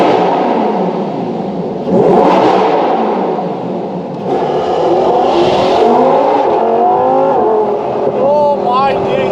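A Lamborghini Huracan engine accelerates hard, loud and near, with rising revving pitches toward the end, as people talk excitedly over it.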